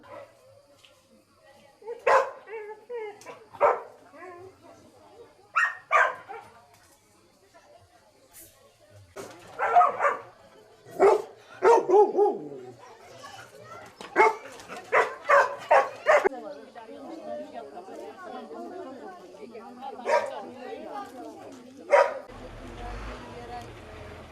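Several dogs, apparently seized by authorities after a tip-off about mistreatment, bark in loud bursts and yip and whimper between them, with voices speaking throughout.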